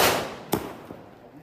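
Homemade firecracker made from dud firecracker powder goes off in a single sharp crack, followed by a faint second pop and a fading hiss, heard alone outdoors.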